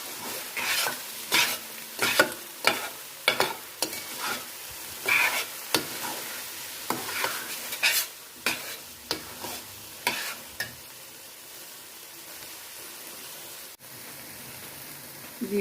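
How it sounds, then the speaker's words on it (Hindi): A spoon stirs pumpkin halwa frying in ghee without pause, each scraping stroke landing in a regular rhythm over a bright sizzle, close and loud, until the stirring stops and only the frying hiss remains. "चम्मच इसमें मुसलसल आपने चलाते रहना है जब तक कि ये साइडों से घी ना छोड़ दे ये"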